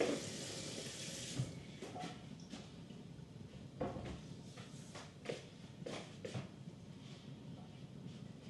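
Tap water runs into a sink while chili peppers are rinsed, a soft continuous stream with faint clunks and handling noises, close and quiet with no talking.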